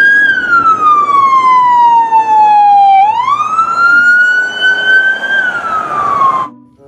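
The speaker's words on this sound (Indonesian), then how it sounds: "Wadidaw, lihat teman-teman, ada mobil polisi." A toy police car plays a loud, close electronic siren in a single long wail. The pitch falls, jumps up, then slides down before the sound cuts off abruptly.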